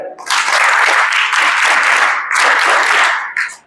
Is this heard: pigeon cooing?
no